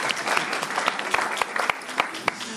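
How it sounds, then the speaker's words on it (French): Brief applause from a conference audience for a young researcher, with a few sharp distinct claps standing out over a softer background of clapping, fairly quiet and short. "bravo, on peut l'applaudir"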